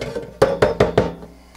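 Used espresso grounds knocked out of a portafilter on an Ascaso espresso setup: four sharp, evenly spaced hard knocks in quick succession, close and fairly loud, with no talking.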